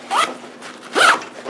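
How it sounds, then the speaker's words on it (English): A zipper on a Haley Strategic D3 FlatPack bag is pulled open in two quick, close, loud zips with a short pause between them. "When you open this zipper on here first, in the front one, you make this front area bigger."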